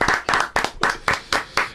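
Seven sharp hand claps in a steady, evenly spaced rhythm, close and fairly loud, with no talk over them.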